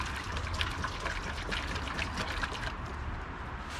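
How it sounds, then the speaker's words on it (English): Water pours from a bowl into a DIY off-grid sink made from a salad bowl, with a steady close splashing trickle. It eases slightly in the last second. "now I'm just gonna pour in a bowl of water"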